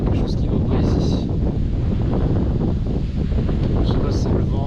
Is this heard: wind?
yes